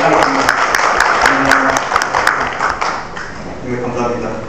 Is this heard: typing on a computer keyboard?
no